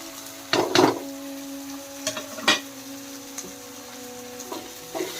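A spoon scrapes and stirs chili powder, coriander powder, turmeric and garam masala into dal khichdi in a pan, giving a few sparse, soft strokes over a faint, steady sizzle.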